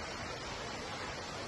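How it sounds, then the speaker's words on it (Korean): A waterfall about 100 to 120 metres high in Lumajang, East Java, Indonesia, roars as a continuous, even wash of broadband noise, heard alone at a distance with no talk. "제가 인도네시아 폭포 본 것 중에 제일 멋있어요"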